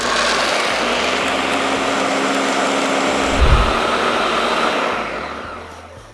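A Ninja Detect blender running, a loud continuous high-pitched motor whir with a brief deeper surge near the middle, then trailing off as it winds down, no voices.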